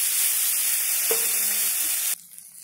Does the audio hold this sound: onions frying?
yes